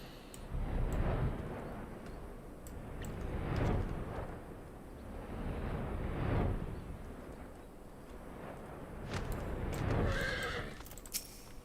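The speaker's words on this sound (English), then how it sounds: "Fly, my horse! My mighty steed of flaming horn!" Horse mount in Final Fantasy XIV neighing and whinnying over repeated clip-clop hoofbeats in a steady galloping rhythm, with game ambience underneath; no talking.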